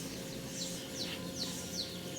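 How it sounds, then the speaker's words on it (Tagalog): Birds call from high in a tall tree, several short repeated chirps at regular intervals, faint and distant over a steady outdoor background hum. "yan yung ibon"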